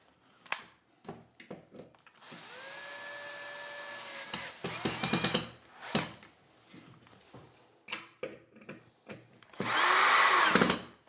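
A power drill drives fasteners into an overlay door panel for a Fhiaba refrigerator, producing several whirring bursts of varying length with clicks and handling knocks between them, close by and without talk.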